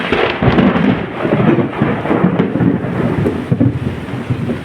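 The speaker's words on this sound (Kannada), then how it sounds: "ಸಿಡ್ಲು ನೋಡಿ ಹೆಂಗೆ ಹೊಡಿತದೆ." Thunder rumbles loudly and continuously through a heavy rainstorm over farm fields, with the steady hiss of rain underneath and no break in the roar.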